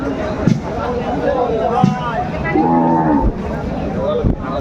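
A cow moos loudly and close by at a Bangladeshi cattle market, long drawn-out lows repeating among people talking nearby.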